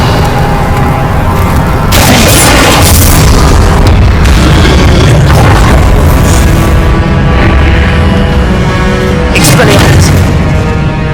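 Repeated Confringo fire-spell blasts in Hogwarts Legacy, a loud, dense run of booming bursts and pops during a Keeper trial, with several sharper impacts standing out from the continuous roar and no talking.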